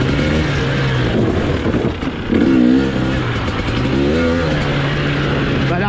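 A 2023 KTM 300XCW two-stroke dirt bike engine revving while riding, a loud buzzing drone that rises in pitch in short surges, close up and continuous.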